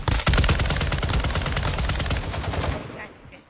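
Rapid, loud automatic gunfire in a multiplayer shooter video game, dense bursts of shots rattling continuously for about three seconds before cutting off into quiet.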